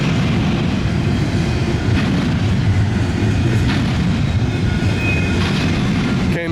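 CSX locomotives 714, 515 and 3095 hauling a huge intermodal freight train at Deshler, a steady loud rumble and roar of diesel engines and rolling cars, continuous and close throughout.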